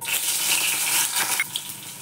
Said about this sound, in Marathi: मिरची चांगली तडतडली